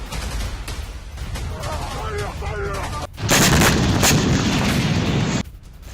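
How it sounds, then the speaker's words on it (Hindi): Heavy gunfire at an Israeli military base: a sudden loud burst of rapid, dense shooting that lasts a couple of seconds, following quieter scattered shots and voices. "दोनों तरफ से ताबड़तोड़ फायरिंग हुई है"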